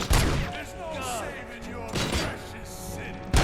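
Gunfire in the video game RoboCop: Rogue City, with loud bursts of shots at the start, around two seconds and at the very end, separated by ringing, echoing decay.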